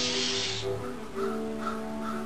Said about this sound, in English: Somebody feed the crow.